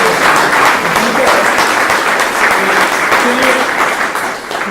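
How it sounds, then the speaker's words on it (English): An audience at a talk on tree planting considerations gives sustained, steady applause, dense and loud throughout with no pauses. "let's give Brian another round of applause."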